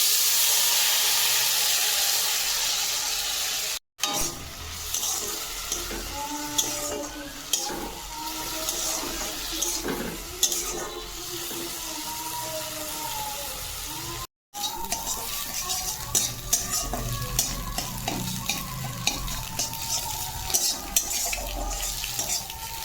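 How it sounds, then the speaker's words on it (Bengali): Pumpkin slices frying in oil in a wok, a continuous sizzling hiss with scraping stir sounds and occasional clatter, broken by two brief cuts. "তাই একটু কুমড়ো ভেজে দিচ্ছিলাম"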